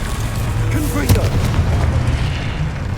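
A Confringo blasting spell goes off in Hogwarts Legacy, a booming explosion with a sharp burst near the middle over a dense, rumbling game soundscape.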